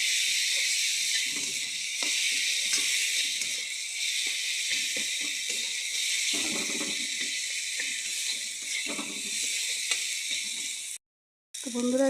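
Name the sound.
chili and turmeric powder frying in a pan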